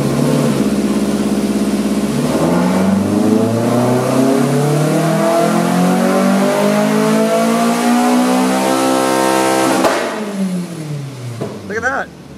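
A 1983 VW Rabbit GTI engine on a Dynapack dyno climbs steadily through a long full-throttle pull, its loud rising tone sweeping upward for several seconds before the revs drop off and the engine settles.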